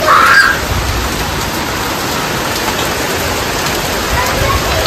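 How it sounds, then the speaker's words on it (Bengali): Rain falls steadily outdoors during a busy festive shopping outing. It makes a dense, even hiss from start to finish after a brief louder burst at the very beginning. "দেখুন আবার বৃষ্টি শুরু হয়ে গেছে।"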